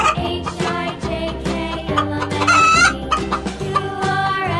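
A hen clucks and squawks repeatedly in quick, uneven bursts, close and loud, its calls rising into a crow-like cackle, set over a rhythmic children's song backing.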